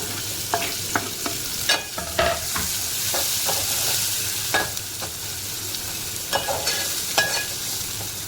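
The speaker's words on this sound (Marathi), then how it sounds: "कांदा टॅमॅटो अख्खा शिजण्यासाठी थोडंसं आपण मीठ टाकून दिलं" Chopped onion, half a tomato and green chilli cooking in a pan with a little salt: a soft continuous sizzle with occasional scraping and stirring clicks from a utensil, close by and moderately quiet, with no talk.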